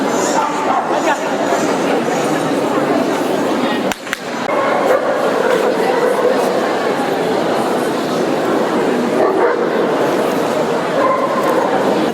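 Dogs bark and yip at a purebred dog show in Mielno, a loud, continuous jumble of many dogs with whimpers among the barks and a busy hall behind them.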